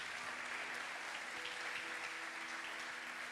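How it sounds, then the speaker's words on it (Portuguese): A church congregation applauds during a sermon, a steady, continuous wash of clapping heard from a distance and fairly soft, with no speech over it. "Você pode aplaudir a presença de Jesus"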